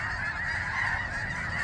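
Snow geese honk at a small pond at Bosque del Apache, New Mexico, a dense, continuous flock chorus, loud and sustained without pause.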